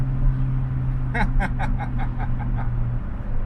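BMW E60 M5 with a manual gearbox cruising, its engine a steady low rumble heard from inside the car, with a short burst of laughter from an occupant midway.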